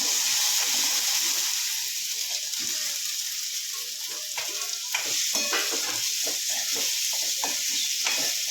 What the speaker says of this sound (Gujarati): થોડીક વાર તેલમાં ચોતરવા દઈશું